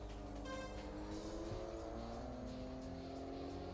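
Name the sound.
rotary engine car in a PSP video game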